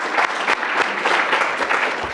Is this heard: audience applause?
yes